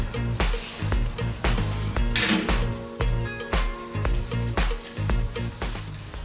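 A seasoned porterhouse steak sizzles loudly on a hot, clean grill, a steady close crackle broken by repeated sharp scraping and knocking hits of metal on the grate, with no talking.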